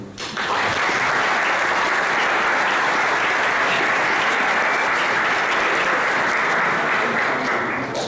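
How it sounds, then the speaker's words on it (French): An audience at a conference debate on economic crisis breaks into loud, sustained applause that starts sharply and holds steady throughout, with no speech over it. "Et bien, je pense qu'on peut vous applaudir."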